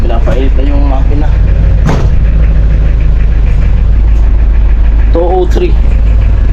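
A diesel vehicle engine idles in a garage while warming up before an early-morning trip, a loud, steady rumble with knocking beneath, as people talk over it at intervals.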